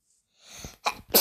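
A single human sneeze, close and sharp, with a short intake of breath before the explosive burst.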